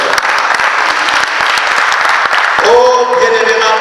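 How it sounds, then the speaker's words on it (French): A church congregation claps loudly and steadily in acclaim at a bishop's ordination service, dense applause that dips briefly before a sustained sung or shouted tone rises over it. "Est-ce qu'on peut acclamer le Seigneur?"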